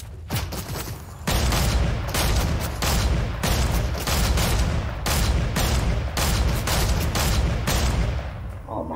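Dense video game gunfire rattles steadily for most of the clip, a near, loud stream of rapid shots after a brief quieter opening. No voice is heard over it.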